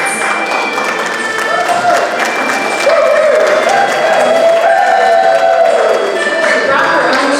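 An audience at a fashion show claps and cheers for a model representing France, a dense wash of close applause with rising whistles and shouts that swell midway, while voices talk over it.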